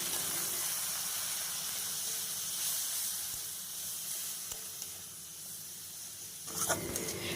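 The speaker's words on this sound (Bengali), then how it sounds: "দিয়ে আমি অল্প করে একটু জল দিয়ে দিচ্ছি, দিয়ে এবার আমি ভালো করে মশলাটাকে কষিয়ে নেব।" Steady, even sizzling hiss of a ginger and garlic spice paste frying in a pan with a little water added, continuous and fairly close, with a few faint clinks near the end.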